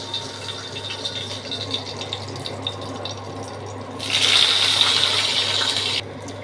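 Okra and brinjal hit a hot pan with a sudden burst of loud hissing sizzle lasting about two seconds, following quieter clinks and rattles of the cooking setup.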